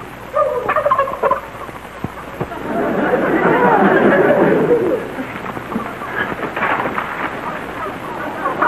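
Turkeys gobble in a rolling, warbling burst mid-clip, fairly close, with clucks and low rumbling noise around them.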